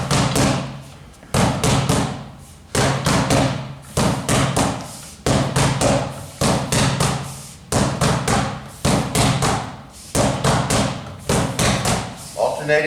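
Sinawali fighting sticks strike in quick repeated bursts of sharp, hard taps, close and loud, falling into a steady patterned rhythm of clustered hits with brief pauses between groups.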